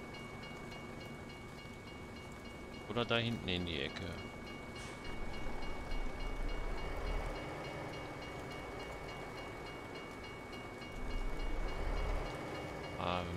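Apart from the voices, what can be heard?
train passing in Euro Truck Simulator 2 video game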